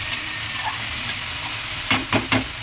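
Hilsa fish cooked with water lily stems sizzles steadily in a pan, and near the end three quick scraping stirs cut through the frying hiss.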